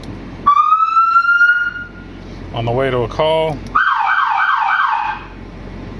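An emergency vehicle siren on a truck put in drive runs through several tones, from a rising wail to rapid yelping sweeps, loud and close, with someone speaking briefly.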